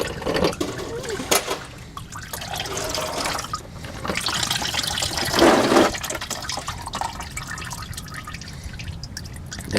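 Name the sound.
old engine oil draining from a cracked oil filter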